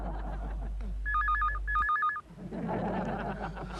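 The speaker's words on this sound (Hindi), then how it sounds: "फोन जरूर कोकी का होगा।" A telephone rings with two quick trilling bursts of electronic tone, then cuts off as background noise continues.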